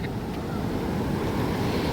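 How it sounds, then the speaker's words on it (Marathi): Ocean waves wash strongly up the sand on a Sri Lankan beach, a continuous loud surging roar mixed with heavy wind noise on the microphone. "लाटा इतक्या वर येत आहेत"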